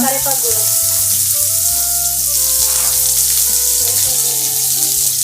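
Onions and curry leaves hit hot oil in a pan while mint dal is cooked at home, giving a loud, steady, close sizzle with a continuous low hum beneath it.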